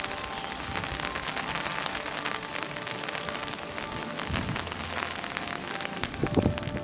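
Rain falls steadily at a Shikoku pilgrimage temple, a continuous close patter on surfaces with scattered heavier drips and no voices.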